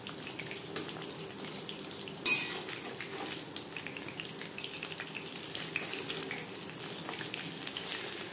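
Chicken pakora in a cornflour, besan and flour batter fries in oil over a medium gas flame, giving a continuous soft crackling sizzle throughout, fairly close, with one brief clink of a utensil early on and no talking.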